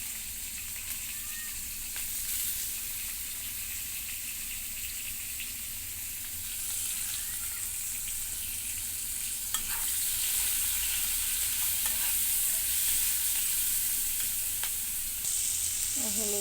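Chopped onion, ginger, green chili and garlic sizzling in hot oil in a pan, a steady close crackling hiss that runs unbroken with occasional stirring scrapes.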